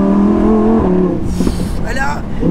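A Lamborghini Huracan EVO RWD Spyder with a new exhaust gives a loud, close engine and exhaust roar that rises and falls over a couple of seconds, with a voice talking over it.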